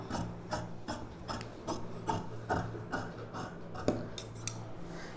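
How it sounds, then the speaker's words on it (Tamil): Sharp scissors snip through blouse fabric in a steady run of crisp, closely spaced cuts, near and fairly quiet, with no talking. "இப்போ நம்ம இதை கட் பண்ணி எடுத்துக்கலாம்"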